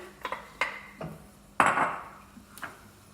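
Washed red lentils tipped into a pot on high heat, a few sharp clanks and a louder rattling pour in the middle, then one more knock against the pot, no voices.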